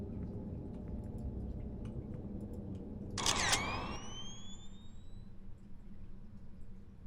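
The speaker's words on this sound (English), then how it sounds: "Push the shutter." A camera shutter is pressed once, giving a brief bright mechanical snap followed by a rising electronic whine that fades over a couple of seconds against steady low room hum.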